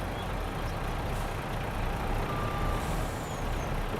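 Truck engine in Farming Simulator 22, a steady low rumble with broadband road noise holding at an even level throughout, with no talk.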